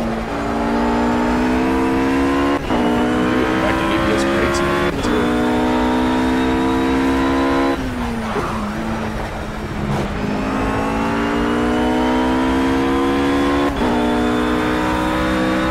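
A race car engine from the video game Project Cars, played on Xbox with a Thrustmaster TX wheel, revs loud and close, climbing repeatedly through gears with sharp shifts and brief lifts, then pulling hard again.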